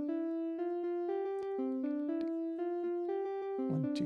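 A live-coded Bacalao rhythm pattern plays as a clean synth melody of short, bright stepped notes in a quick, even pulse, with light percussive clicks scattered among them, with no talking.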